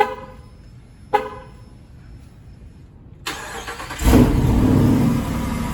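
A 2021 Jeep Wrangler Rubicon 392 with its 6.4-litre Hemi V8 cranks and fires, a brief start followed by a loud, throaty rev that settles into a steady rumbling idle, heard close up with no talking.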